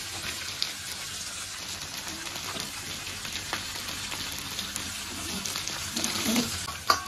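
Fish pieces fry in oil in a pan, a soft continuous sizzle and crackle, fairly faint, with a few light clicks near the end.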